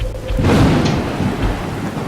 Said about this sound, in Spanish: El crujir de las ramas bajo sus pies y el sonido incesante de la lluvia